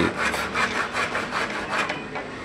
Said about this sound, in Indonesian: sekarang saya gergaji setiap garis yang telah saya ukur tadi.